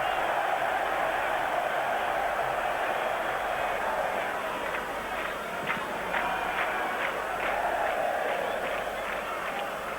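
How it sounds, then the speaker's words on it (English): Excited football crowd in Ramat Gan Stadium during a Euro 1996 match, a steady distant roar filled with faint rhythmic clapping and chanting, with a commentator's voice above it. "A very excitable crowd in the Ramat Gan Stadium."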